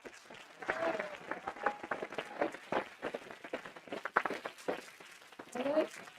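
Scattered clapping from an audience at a live town hall debate in Bath, welcoming Caroline; irregular claps over a continuous murmur of talk, moderately loud and fairly close.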